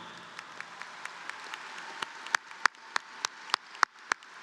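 Audience at the 2025 Massanutten Technical Center graduation ceremony applauding students, starting as a soft, distant wash that grows into sharper, more distinct individual claps at a steady, quickening rhythm.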